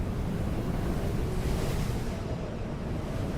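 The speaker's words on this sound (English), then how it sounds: "we won't take damage from this storm. So we can just watch it. Get really windy and dark." Steady roaring sandstorm wind in the survival game Dune: Awakening, a dense continuous rush of low, broadband noise with no voices, constant and enveloping throughout.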